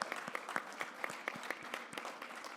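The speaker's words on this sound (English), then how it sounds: "I think he just needs another round of applause" A conference audience applauds a police chief, a quick patter of many claps with distinct louder smacks, somewhat distant and moderately quiet, no speech over it.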